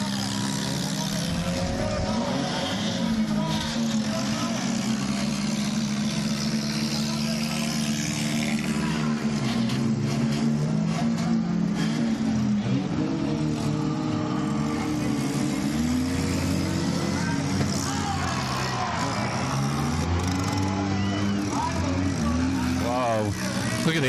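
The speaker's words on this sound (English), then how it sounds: "There's our Lions car still going" Race car engines roar and rev at a county fair demolition derby, a continuous loud motor drone with shifting pitch as cars crash and push through a pileup, under ongoing talk.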